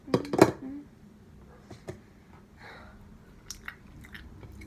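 Someone chews a bite of vegan lemon cake close to the mic. A few louder bites and crunches open the sequence, followed by faint, scattered mouth sounds in a quiet room.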